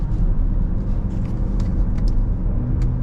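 BMW X5 M50i SUV engine pulling hard on a test drive, a steady loud low rumble that holds through the clip with faint higher bursts above it, no talk.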